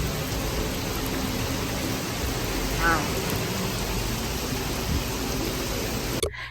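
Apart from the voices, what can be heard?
heavy rain pouring down during a flood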